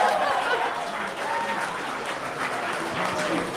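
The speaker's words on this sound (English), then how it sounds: "Before we give a huge round of applause" A live audience claps in sustained applause at a debate-style stage event, a dense, steady wash of many hands with a faint murmur of crowd voices beneath.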